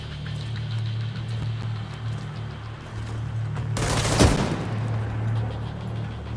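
Gunfire in The Division 2 Dark Zone gameplay, a sustained volley of shots peaking in one loud burst midway, over a steady low in-game hum.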